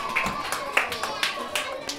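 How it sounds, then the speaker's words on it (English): Children clapping for themselves at a school in Gambia, several quick uneven bursts of hand claps over about two seconds, moderately close, with voices mixed in. "Very good, clap for ourselves."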